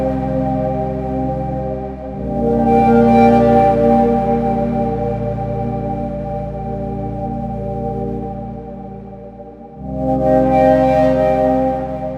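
Synth pad patch built in Bitwig's Grid from layered oscillators and a water-glass sample, a dense sustained harmonic drone with a bright textured swell near the start and another near the end, fading slightly between, alone without voices.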